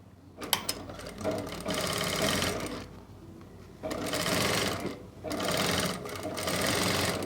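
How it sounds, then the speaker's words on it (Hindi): A sewing machine stitches a folded rib band strip onto fabric in steady bursts of rapid mechanical whirring, with brief pauses between runs. "इस तरीके से सिलाई लगाते हुए पूरी सिलाई को कंप्लीट कर लेंगे।"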